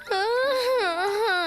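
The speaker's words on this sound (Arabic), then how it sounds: "هوبيتي ووش كان بيقيل في المرجيحة لما سمع عياط" A small cartoon character from the Bing series cries in a drawn-out, wavering whimper that rises and falls steadily, close and fairly loud, with no other sound around it.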